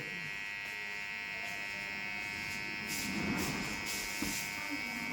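An electric hair clipper buzzes steadily while cutting a round haircut in a barbershop, a constant close hum with brief louder passes and some faint background talk.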